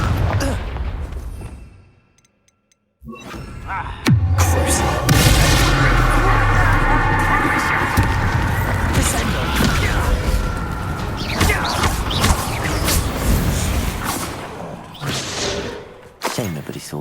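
Fiery spell blasts from the Hogwarts Legacy video game burst out in heavy booms and crackling impacts after a short silence, loud and layered with clattering debris and game combat noise throughout.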